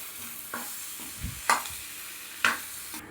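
Mashed potato is stirred into frying masala in a pan, giving a low steady sizzle broken by several scraping, clinking strokes of a spoon against the metal.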